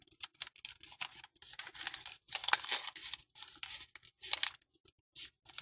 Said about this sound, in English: Then you're going to fold the top edge down